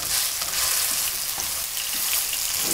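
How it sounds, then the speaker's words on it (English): Beef browns in hot oil in a frying pan for a spaghetti bolognese, giving a steady, close, dense sizzle and crackle with no pauses and no voices. "then we are going to add our beef to the pan"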